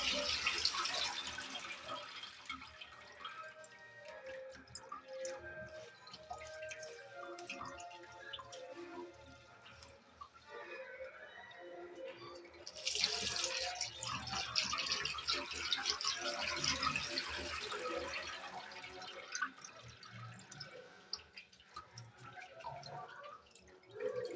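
Jute leaves washed under a running kitchen tap, with water splashing and dripping, a brief gap, then a louder gush of running water, and no voices.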